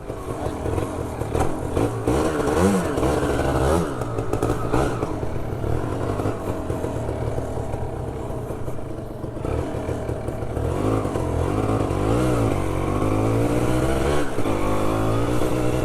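A motorcycle on a solo touring ride in Southeast Sulawesi, heard from onboard as a loud continuous engine roar with rising revs and road rumble under wind noise throughout.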